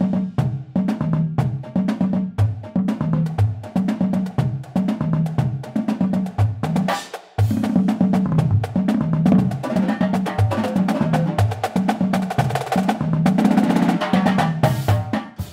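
A marching drumline plays its cadence groove leading into the solos: dense, driving snare, tenor and bass drum patterns with steady cymbal accents, loud and continuous apart from one brief break midway.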